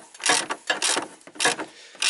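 A hand ratchet wrench tightens a car battery terminal bolt, giving several bursts of quick, close rasping clicks with short pauses between strokes.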